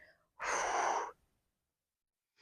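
A single audible exhale, a breathy rush lasting under a second, during an abdominal workout routine, with quiet before and the start of another breath at the end.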